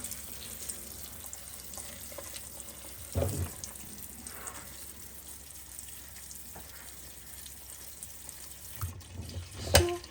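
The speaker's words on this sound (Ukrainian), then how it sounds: "ось я піднімаю друшляк, і зробити їй такий шок в холодну-холодну воду" Cold tap water pours steadily over steamed cauliflower held in a colander, a soft continuous splashing with a few louder clatters, no talking.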